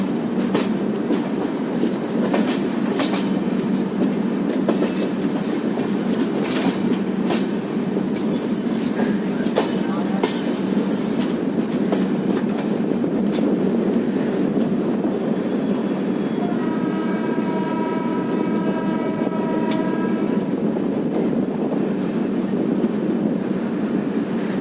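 Passenger train on a long-distance journey in India, rolling steadily on the rails with continuous loud rumble and clatter from the carriage, a few sharp clicks over joints and a brief tonal squeal near the end, no voices.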